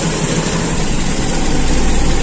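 A Toyota Kijang Super engine idles steadily at the exhaust, a close, loud, continuous low rumble with even pulsing and no speech.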